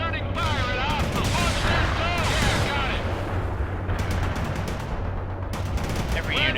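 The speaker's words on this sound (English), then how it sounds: "Bradley returning fire at hostile" Rapid gunfire from a Bradley APC in the World in Conflict battle game, sustained bursts over a battle din with sweeping whines, loud throughout.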